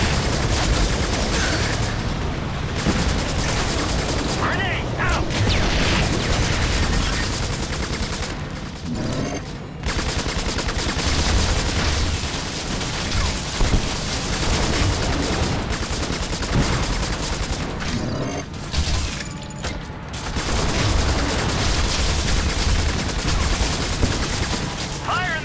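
Grenade explosions and rapid gunfire in the shooter Section 8: Prejudice: sustained bursts of automatic fire and repeated booms run loud and dense almost without a break, with occasional short pauses and talk underneath.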